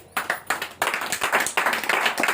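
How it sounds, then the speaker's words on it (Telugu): A church congregation claps hands in rapid, fairly loud bursts during a sermon, pausing briefly between rounds of clapping. "గట్టిగా చప్పట్లు కొట్టండి"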